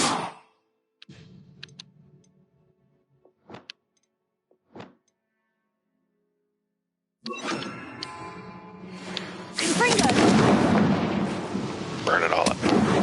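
A Bombarda spell explosion in the fantasy video game Hogwarts Legacy. It is a loud, sudden burst followed by a sustained rumbling, crackling blast that fills the last few seconds, after a stretch of quiet with scattered brief chimes and small clicks.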